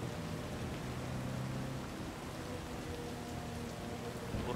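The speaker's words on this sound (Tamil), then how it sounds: "மழை வேறு பெய்யுது" Steady rain falls in the city of the game Cyberpunk 2077, a continuous soft hiss of drops with a low rumbling undertone, even and unbroken throughout.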